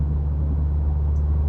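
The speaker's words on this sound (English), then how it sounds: "the sound of the engine when you start it up, or the exhaust, the thrum" Steady low, throaty engine and exhaust thrum from a 2023 Subaru WRX manual, a continuous close rumble holding level throughout with no voices.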